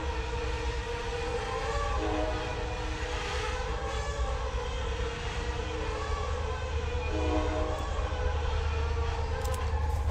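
A train rumbles past outside, heard from indoors, with a loud, sustained tonal horn sounding over the steady rolling noise.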